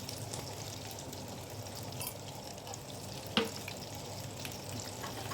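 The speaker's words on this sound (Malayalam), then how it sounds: "പൊടികൾ ചേർക്കുമ്പോൾ എണ്ണയിലോട്ട് തന്നെ ചേർക്കാനായിട്ട് നോക്കുക." Asafoetida and turmeric powder frying in hot oil for a chilli pickle, giving a soft, steady sizzle with one brief sharp click partway through.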